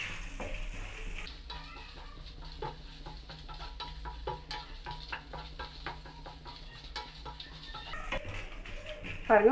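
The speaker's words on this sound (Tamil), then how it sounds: "ஒரு நிமிஷம் நல்லா வறுத்துக்குங்க." Whole spices and a spoonful of grated coconut dry roasting in a pan over low heat, with soft crackling and a spatula scraping and stirring steadily for about a minute at close range.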